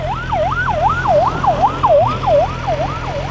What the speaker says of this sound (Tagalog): So yung mga fire truck din, may sunog ah.